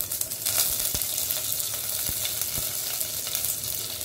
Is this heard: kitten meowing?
no